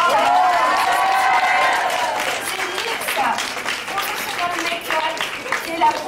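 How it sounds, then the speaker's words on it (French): An audience at a makeup awards finale in Paris applauds loudly for a contestant, a steady wash of clapping and crowd noise that tapers slightly as a voice carries on over it. "Et d'ailleurs, je félicite Élise, on l'applaudit très fort."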